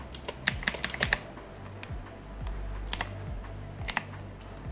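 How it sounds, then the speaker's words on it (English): Fingers tap on a computer keyboard while entering text in a Linux terminal editor, giving irregular bursts of close, crisp key clicks with short pauses between them and no talking. "Just type hi 1 2 3 4 and click and write some data, enter some data."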